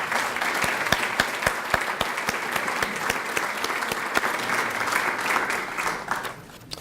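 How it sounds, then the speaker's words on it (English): Sustained audience applause at the Centerville Volunteer Celebration as Arts Commission members stand, a dense, steady clapping from a roomful of people that carries for several seconds before thinning out at the end. "Get your round of applause because it's well deserved"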